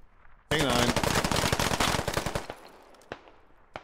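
Rapid bursts of automatic gunfire in the tactical shooter game SquadOps, loud and dense for about two seconds before thinning into a few scattered, sharp shots, with faint voices under the firing.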